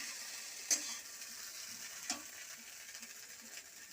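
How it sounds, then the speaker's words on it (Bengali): Soaked flattened rice stirred into fried egg in a pan, a quiet continuous sizzle punctuated by two or three sharp spatula scrapes and clicks, heard close with no talk. "তখন চিড়েটা দিয়ে দিলাম, ভেজানো চিড়ে দিয়ে দিলাম। এবার নেড়ে চেড়ে নামিয়ে দেবো।"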